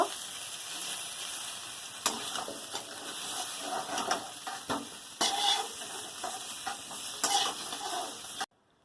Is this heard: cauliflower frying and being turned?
yes